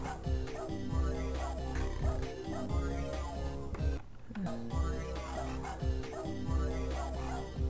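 A dog barks and yips repeatedly in the Frogger's Adventure video game, short cartoonish barks layered over busy looping game music.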